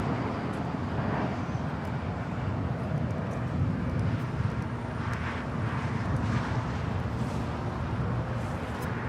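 Spirit Airlines airliner taking off from runway 25 Right at Los Angeles International Airport, a steady broad jet-engine roar sustained throughout, heard from a distance without talk.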